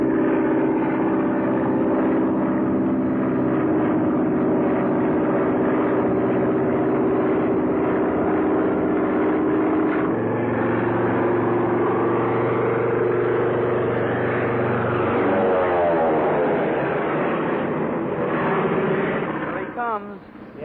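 A propeller airplane flies in with a steady, loud engine drone lasting about twenty seconds, its pitch shifting as it passes, in a 1943 aviation film. Voices talk over the engine and music.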